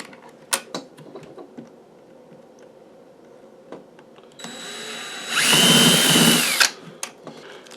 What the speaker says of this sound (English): Alright, I'll drill this bottom hole here.